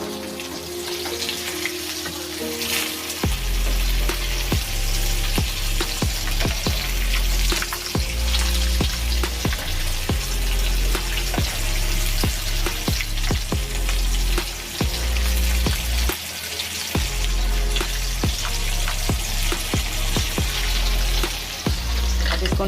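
Shami kebabs sizzling in hot oil in a pan after being flipped, a continuous bubbling fry with scattered pops and a few low knocks and clatters from the pan throughout.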